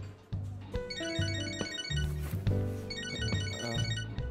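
A phone in the video game Catherine Full Body rings with a repeating, bright melodic ringtone pattern that plays continuously and fairly loud over a soft game music backdrop, with no one speaking.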